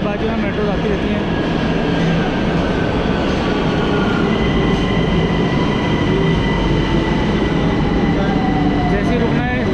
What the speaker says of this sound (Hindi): सामने आ रही मेट्रो आ रही है, वही मेट्रो आ रही है सामने।